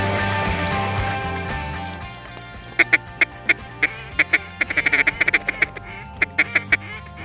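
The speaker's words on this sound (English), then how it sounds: "Tyler keeps apologizing for his duck call mistakes" A duck call is blown during a duck hunt, with low background rumble giving way to a loud, close series of sharp quacks in uneven bursts, some rapid and clustered, through the second half.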